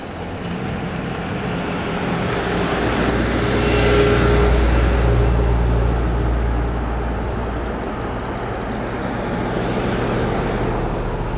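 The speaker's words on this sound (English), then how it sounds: "let me show you how busy the car park is and how many cars are coming in." Cars driving into the busy car park at Moraine Lake, a steady broad rumble of engines and tyres that swells in the middle and then eases, with no voices.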